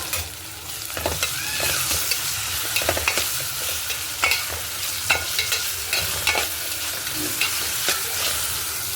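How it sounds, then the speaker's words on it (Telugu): Ginger garlic paste frying in a pan while being stirred, loud continuous sizzle broken by repeated close scrapes and clanks of a spoon against the pan, no voices. "అల్లం వెల్లిపాయ పేస్ట్ కూడా కొంచెం వేసుకుందాం"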